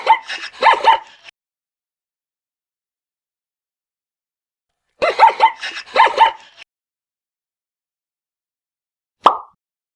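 A dog barks in two short clusters of quick yips several seconds apart, close and clear against silence, followed by a brief plop-like pop at the end.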